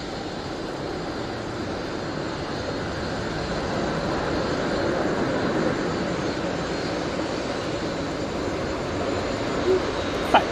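Airliner on a crosswind landing at Manchester Airport during Storm Floris, a steady broad jet engine roar mixed with gusty wind noise, moderately loud and continuous, with faint voices at moments.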